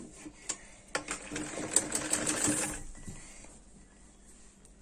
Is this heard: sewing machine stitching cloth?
yes